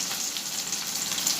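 Potatoes fry in a pan as ginger-chili paste goes in, a steady dense hiss and crackle of hot oil sizzling close by, continuous and fairly loud with no voices.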